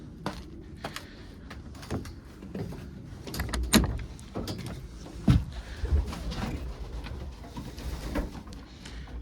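Domestic pigeons coo softly inside a pigeon loft, their low murmuring calls scattered among occasional knocks and a door-like thump, fairly quiet and close.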